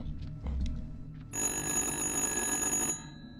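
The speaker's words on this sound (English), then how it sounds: "That's the phone ringing." An old-style telephone bell rings in a single sustained, bright burst in the horror video game Little Hope, after a low rumble, with quiet background ambience.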